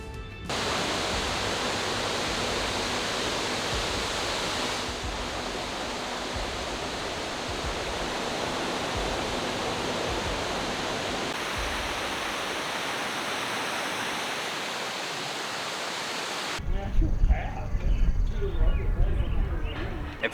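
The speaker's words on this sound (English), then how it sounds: "This location's waterfall is more of a spillway, but is still fed by underground spring water." A waterfall spilling over a spillway, fed by underground spring water, giving a steady, full rushing roar that holds constant throughout, with a rougher burst of noise near the end.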